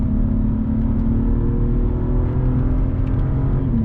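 A car accelerates hard during a lap of the Nürburgring, its engine droning loud and close from inside the cabin as a steady low rumble with a whirring tone that slowly climbs in pitch.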